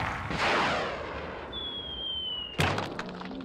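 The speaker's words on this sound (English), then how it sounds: "before your very eyes, a man will be shot out of a cannon" Cartoon cannon firing a man out at a circus-style show: a sharp boom with a descending whistle, then a loud impact crack and ringing debris that trails off.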